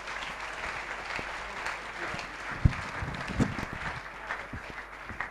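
A church congregation applauds and cheers in praise of the Lord, a steady wash of clapping with a few scattered shouts rising above it, fairly close and sustained throughout.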